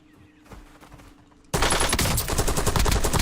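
Gunfire in a battle royale video game: quiet ambient rumble with faint shots, then a sudden loud, sustained burst of rapid automatic fire filling the rest of the moment.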